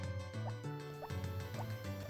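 Watering can sprinkling crops in the farming game Harvest Moon: Back to Nature, heard as quick dripping, splashing bursts over a steady looping game soundtrack.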